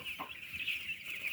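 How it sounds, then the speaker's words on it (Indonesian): Young chickens, eleven days old, cluck steadily throughout a poultry house while workers rouse them, a dense flock chorus of overlapping calls without speech. "anggota operator kandang lagi membangunkan ayam supaya ayam lebih aktif"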